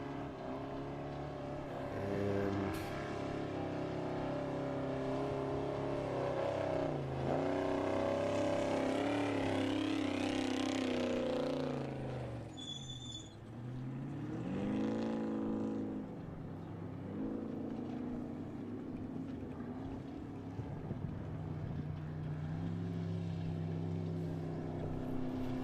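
Off-road trophy trucks in the 2025 SCORE Baja 500 race near race mile 53, roaring past in several loud waves with rising and falling engine pitch as each one approaches and fades, with no talking.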